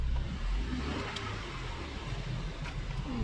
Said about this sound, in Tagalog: let's try to rev the engine